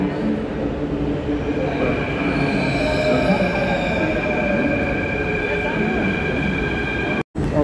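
A Mumbai metro train at a station platform gives a steady, loud rumble with sustained tonal whine bands throughout, with a brief dropout near the end.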